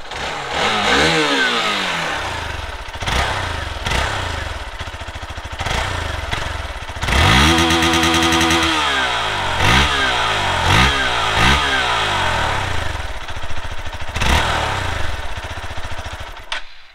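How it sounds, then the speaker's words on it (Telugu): Hero Xpulse 200 4V Pro motorcycle, a 2023 tall adventure bike, revving repeatedly with sharp throttle blips rising and falling over a steady idle, loud and close, with no talk. "ఒకసారి మనం ఎగ్జాస్ట్ నోట్ విని రైడ్ అయితే చేద్దాం"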